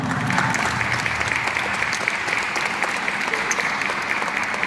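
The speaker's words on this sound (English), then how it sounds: "I want to applaud y'all now." Parents and guests at a youth football award ceremony give a steady round of applause, close and even in loudness, with no speech over it.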